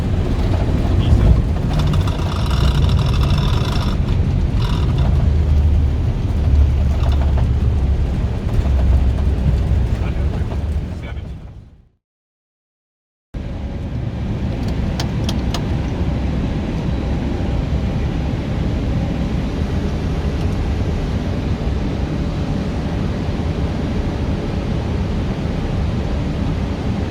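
Inside an airliner cockpit during landing with spoilers out and engines at idle: a loud, steady broadband roar fills the whole stretch, broken by a brief drop to silence midway, with voices talking over it.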